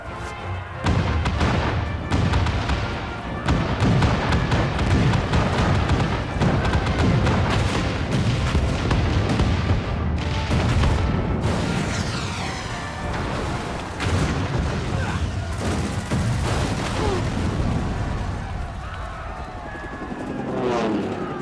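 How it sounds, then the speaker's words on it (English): Heavy cannon fire from a naval-style battle in the video game Final Fantasy XIV, a dense, loud barrage of booms and rumbling blasts that continues almost without pause, with whooshing and crackling layered over the low thunder. "All cannons! Fire at will!"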